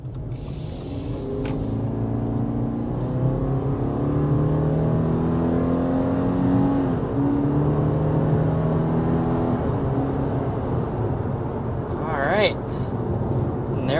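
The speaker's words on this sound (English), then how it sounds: "There was an acceleration up to about 60 miles per hour in the 2023 Forester." A 2023 Subaru Forester Touring with a 2.5-liter boxer four-cylinder pulls hard toward 60 mph, its engine drone rising steadily in pitch from inside the cabin, with a brief whine near the end.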